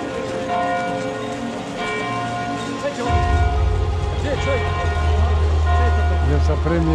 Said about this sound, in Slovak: Aj zvony zvonia.